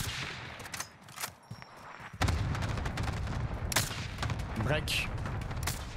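Gunfire in the video game Warzone, with bursts of shots and heavy firing that grows louder and denser midway, under occasional talk.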